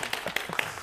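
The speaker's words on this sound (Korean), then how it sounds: "우리 전계훈 학생한테 박수 한번 해주십시오" Classmates clapping for a student in a lecture hall, a short run of brisk, irregular hand claps at moderate volume.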